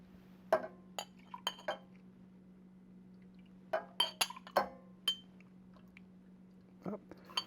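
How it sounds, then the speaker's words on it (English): A spoon clinks against the glass while stirring a warm apple cider old fashioned cocktail, giving several sharp, bright taps in scattered bursts over a steady low hum, with no talking. "So you just give it a little bit of a stir."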